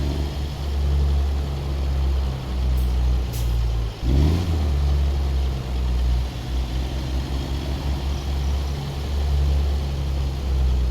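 A truck in American Truck Simulator with a loud, steady low engine drone, a brief hiss and shift around the middle, and continuous road rumble throughout, with no talking.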